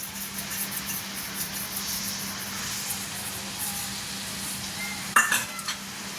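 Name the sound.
stirring paneer butter masala to mix it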